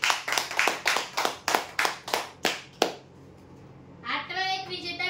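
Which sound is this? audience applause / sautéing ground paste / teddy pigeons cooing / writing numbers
audience applause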